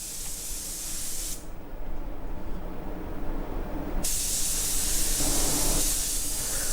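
A spray gun hisses as it lays bright paint onto a custom paint job, a close, steady spray that cuts out for a few seconds and then resumes at full strength.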